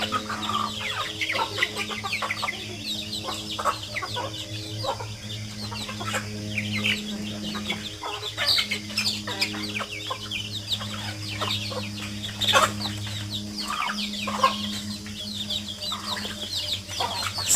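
Chickens cluck steadily, with a few sharper calls rising over a constant low hum.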